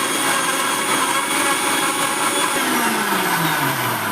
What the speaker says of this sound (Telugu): ఇప్పుడు మిక్సీ ఆన్ చేసుకున్నాం.